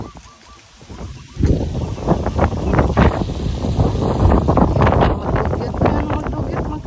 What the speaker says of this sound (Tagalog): Hangin pa kayo.